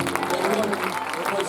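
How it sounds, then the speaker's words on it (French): A church congregation at a francophone Christian conference claps in praise, a short steady burst of applause mixed with voices and cheering across the room. "Est-ce qu'on peut applaudir le Seigneur?"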